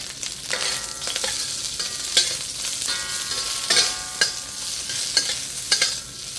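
Beef is stir-fried in a hot pan, with a continuous loud sizzle broken by repeated scraping and clattering strokes of the spatula at an uneven rhythm. There is no speech.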